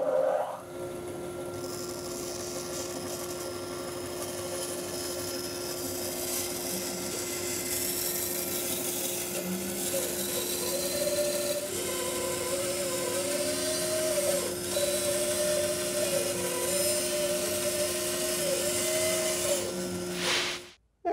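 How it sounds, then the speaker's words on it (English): A machine saw with a 3/8-inch blade runs with a steady whine as it cuts a tight curve through wood, its pitch wavering while the cut curves, then the motor stops. "I'm using a 3/8 inch blade. That will cut that tight curve"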